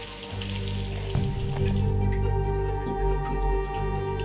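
Water showering down in a limestone dripstone cave, Kačna Cave, drips as scattered sharp plinks and splashes over a steady watery background hiss, fairly close, with no voices.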